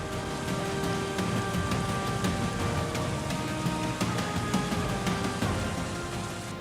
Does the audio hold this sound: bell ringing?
no